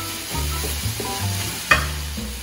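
Green onions sizzling in a pan alongside red onion, a steady close frying hiss with soft stirring scrapes and one sharp clink partway through, no talking.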